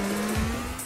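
Street-racing car in Grand Theft Auto IV, a short burst of engine drone with a quick swooping pitch sweep as it passes, steady and fairly loud.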